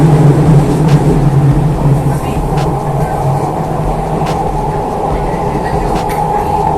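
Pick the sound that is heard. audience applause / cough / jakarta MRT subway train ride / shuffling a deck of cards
jakarta MRT subway train ride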